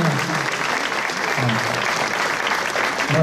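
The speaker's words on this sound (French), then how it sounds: "On peut les applaudir à nouveau" Crowd applause for champion firefighters at a 14 July ceremony in France, loud continuous clapping with voices faintly audible beneath it.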